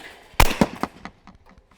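A single loud shotgun blast at a skeet target, a sharp close crack followed by quickly fading echoes rolling across an open range.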